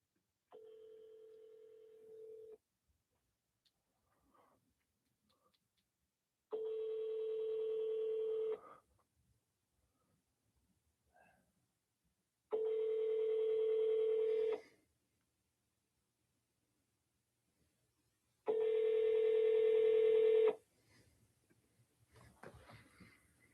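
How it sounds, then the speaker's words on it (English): A telephone rings in repeated bursts of about two seconds, separated by pauses of silence, clear and fairly close. "My phone is ringing."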